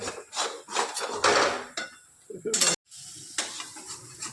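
Aloo chop (potato fritters) frying in a pan while being stirred, with repeated scraping and clattering of a utensil against the pan over a steady sizzle, close and fairly loud, broken by a brief silence near the end.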